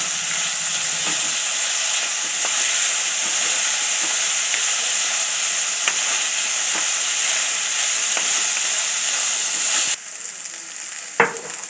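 Dal and ghol leaves sauté in a pan with a loud, continuous sizzling hiss and faint stirring scrapes. The sizzle drops sharply just before the end, and a single knock follows.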